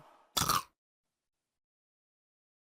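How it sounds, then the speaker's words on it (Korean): One short, crisp crunch of peanuts being bitten, used as a sound-design effect, heard alone and close. It is followed by silence and a faint tick at the very end. "마지막으로 이제 땅콩 씹는 소리로 마무리를 한 영상이었습니다"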